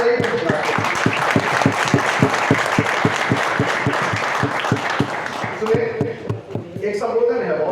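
Audience at a Hindi poetry recital applauding, dense sustained clapping with a steady rhythmic beat running for about six seconds before thinning out as voices come in.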